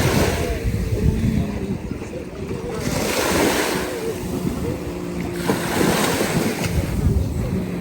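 Sea waves wash up on a beach in Dubai, a steady rolling surf with swelling surges every few seconds, mixed with wind buffeting nearby and faint voices in the background.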